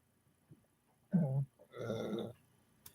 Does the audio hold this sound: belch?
yes